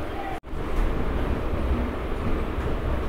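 A MEMU passenger train pulls out of Bhimavaram Junction station with a steady, loud low rumble, broken by a brief dropout near the start.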